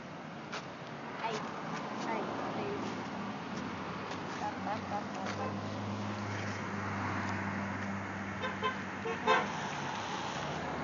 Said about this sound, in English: Everybody's honking.